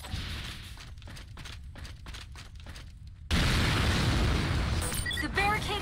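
A barricade detonated in the Vanquish video game: after a stretch of low rumbling and faint rapid taps, a sudden loud explosive blast erupts and keeps roaring with debris crackle to the end.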